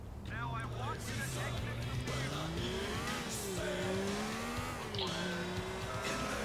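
Car driving in the video game GTA IV, an engine droning and rising and falling in pitch as it revs and shifts, with brief tire squeals, under someone talking.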